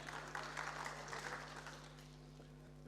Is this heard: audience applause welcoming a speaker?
yes